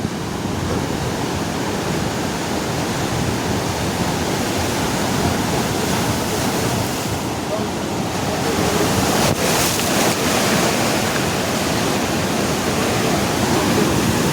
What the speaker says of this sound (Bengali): সমুদ্রে জোয়ার শুরু হয়ে গেছে